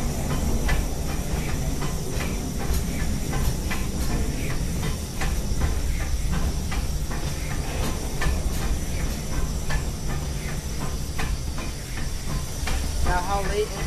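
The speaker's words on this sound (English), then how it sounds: "the puffing, that's the air pump giving us air for the brakes." Steam locomotive air pump on the Disneyland Railroad puffing to build brake air, a steady rhythmic hiss and chuff heard from the tender over continuous rail rumble, with voices talking at times.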